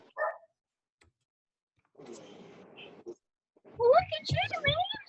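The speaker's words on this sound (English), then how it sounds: "you can hear them barking at the UPS man." Dogs in a house barking at a UPS delivery man, a few sharp yips and then a louder cluster of barks near the end, mixed in with indoor talking.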